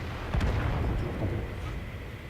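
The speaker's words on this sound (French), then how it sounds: "Là, on va assister à des tirs tendus." Artillery fires in the game World of Tanks with one booming shot early on, followed by a rumbling, noisy roar that fades slowly and no speech.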